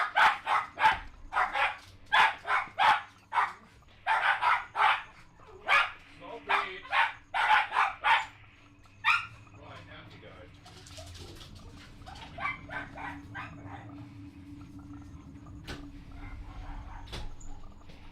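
Dogs bark excitedly in dense volleys for the first nine seconds, then a fainter, scattered tail of yips and barks fades out over a low background hum.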